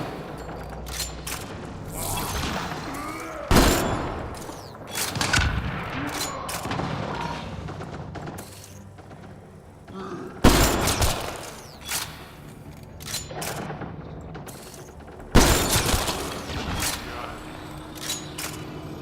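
Gunfire in a video game, with repeated bursts of loud shots and booms separated by quieter stretches of rattling fire and game noise, and someone talking over it.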